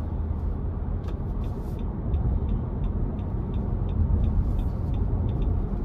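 A 2023 Nissan Armada SV V8 SUV accelerating, heard from inside the cabin as a steady, loud low rumble of engine and road noise that builds gradually, with faint ticking above.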